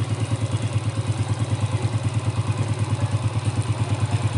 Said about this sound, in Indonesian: Nih kalian bisa dengarkan sendiri suara mesinnya, enak kan?